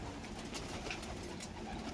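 Pigeons coo steadily in a loft as its gate is opened, a close, continuous murmur of soft calls over a dense background hiss.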